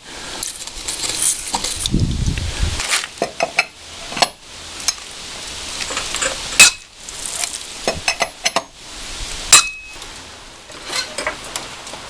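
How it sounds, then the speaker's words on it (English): PB Blaster penetrating oil being sprayed onto fender bolts beside a fender flare, several short hissing aerosol bursts mixed with clinks and handling noises, close by with no talking. "So I'm just gonna get them soaking here with some PB Blaster."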